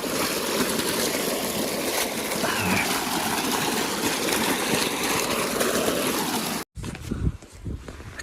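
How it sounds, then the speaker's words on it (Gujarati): Water gushes steadily from a pump outlet into a farm field, a loud continuous broadband rush filling most of the clip before cutting off abruptly near the end, followed by a few softer splashing bursts. "જો મિત્રો પાણીનો બંબો પડે છે આપણે."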